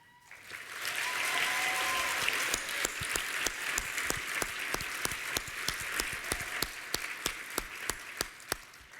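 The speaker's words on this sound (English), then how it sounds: "Please join me in giving a big round of applause for our top national team." Applause at a corporate awards presentation for a top national team, a dense burst of clapping from a large audience that builds quickly, holds steady, then thins into a few sharp individual claps toward the end.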